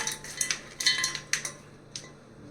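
Spiced bitter gourd fry being mixed in a dish, with a run of light metallic clinks and taps of a spoon against the vessel, irregular and close, with no voices.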